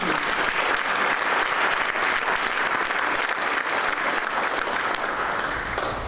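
An audience at a town business appreciation breakfast claps in a sustained, dense round of applause, loud and steady from start to finish with no break.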